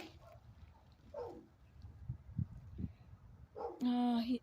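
A dog gives a short burst of yips or barks near the end, following muffled low sounds and some quiet talk in the background.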